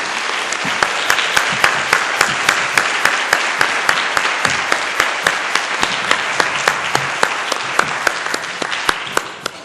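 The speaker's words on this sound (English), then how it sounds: "Give them a big, big round of applause, too." A conference audience breaks into sustained applause, a thick, even roar of many hands with a few sharper individual claps standing out, loud and continuous before tapering at the very end.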